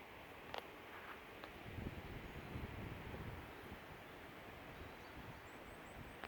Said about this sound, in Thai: มีลมไม่ค่อยแรงเท่าไหร่นะคะ